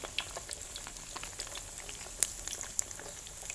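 Sliced pork for crispy pork frying in hot oil, a faint continuous sizzle and bubbling with scattered small pops and crackles, no one speaking.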